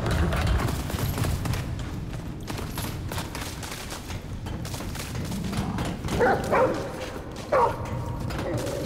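In the video game Remnant From The Ashes, a dog barks and yips amid rapid gunfire and game noise, with a few sharper bark bursts late on, and a player talks over the action.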